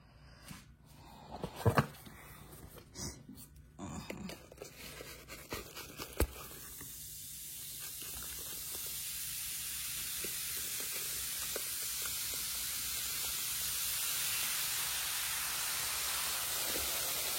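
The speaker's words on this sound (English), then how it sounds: "Now I'm gonna add baking soda." Baking soda fizzing in cleansing vinegar, starting with a few sharp knocks and rustles, then settling into a steady, broad hiss that grows slightly louder and continues unbroken to the end, with no voices.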